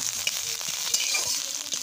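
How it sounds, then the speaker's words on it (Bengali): Ginger fries in hot oil with nigella seeds and dried chilli in a kadai, a continuous close sizzle broken by short stirring scrapes and taps, no voices. "সুন্দর করে আদাটা লাল লাল করে ভাজা ভাজা হবে।"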